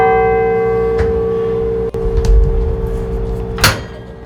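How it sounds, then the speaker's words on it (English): Carillon bells in the bell tower of the Basilica of Sacred Heart ring with long sustained tones, a few fresh strikes sounding over the lingering hum and decaying into the resonance. "Each bell is connected by means of a steel rod to a mechanism that draws the clapper on the bell so that it sounds."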